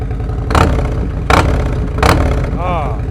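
A 2024 Harley-Davidson Street Glide fitted with a Tab Performance exhaust idles in gear with a deep, loping rumble, punctuated by three sharp louder bursts, and someone speaks briefly over it near the end.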